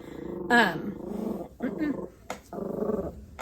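A dog growls and barks in short, throaty bursts close by, rumbling snarls broken by a few sharper yips indoors.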